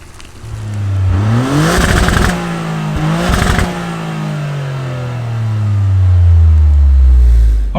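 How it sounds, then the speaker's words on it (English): A Toyota GR Corolla pulls hard under spirited driving, its engine climbing in pitch through two quick gear changes, then surging loud through a long, rising pull, with no voices. "this is actually going to be my first spirited driving of the GR Corolla"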